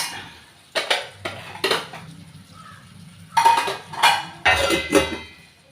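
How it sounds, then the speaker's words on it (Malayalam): Metal lid set down on a cooking pot while a raw banana and prawn curry is being made, heard as a cluster of sharp clinks and clatters, a few separate knocks first and then a denser burst of metallic rattling, close up with no talk. "മൂടി അടച്ചു വെച്ചിട്ട് നമുക്കൊന്ന് കുക്ക് ചെയ്തെടുക്കാം"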